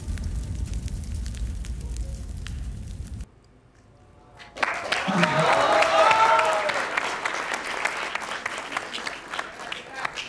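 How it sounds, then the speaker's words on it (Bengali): Studio audience at a Bangladeshi talk show applauding: after a brief hush, a loud, dense burst of clapping swells and holds, with a voice talking over it near the start. "সবাই আরো অনেক জোরে একটা হাততালি দাও ফর টিম প্রিয় মালতী"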